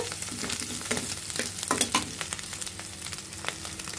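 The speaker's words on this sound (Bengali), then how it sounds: "আমরা এখন চিংড়ি মাছগুলো ভাজা ভাজা হয়ে গেছে" Prawns frying in a pan of hot oil, giving a dense, continuous crackling sizzle with frequent sharp pops and spits close by, heard without any talk.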